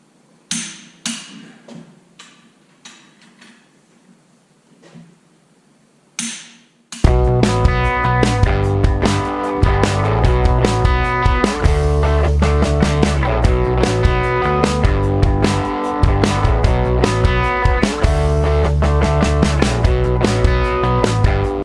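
A 3/4 inch socket works the head bolts of a Detroit 4-53T diesel engine: a few sparse metallic knocks at first, then a long, dense, loud run of ringing clanks and rattles.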